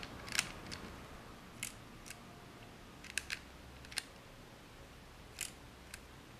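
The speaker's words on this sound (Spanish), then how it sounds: "Al avanzar la película se carga el obturador y podemos disparar." An Agfa Karat 3.5 camera has its film advanced and its shutter released, giving a run of sharp, close mechanical clicks and snaps in small clusters with quiet gaps between.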